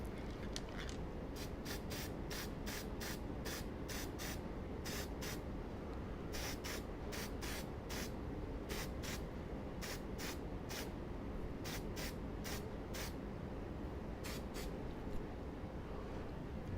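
Spray bottle misting a potted basil plant, a run of short sharp hissing spritzes in quick bursts, close and clear over a steady background hum.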